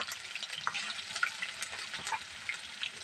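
Ginger garlic paste, with cumin, goes into bay leaf and garam masala frying in oil for a fish curry, making a soft, even sizzle and crackle that runs steadily throughout at a moderate distance.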